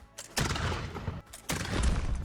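Two heavy cannon blasts fired in a RimWorld test, each a loud booming report with a rumbling tail, spaced about a second apart with no talking.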